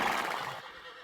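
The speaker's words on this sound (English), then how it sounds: "It was a horse. A wild horse." A wild horse in a cartoon setting gives a single brief, loud whinny that wavers and trails off within about a second.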